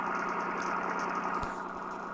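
Steady droning airplane engine hum in the Roblox game Naval Wars, constant and fairly loud, with a brief sharp click partway through; no voices.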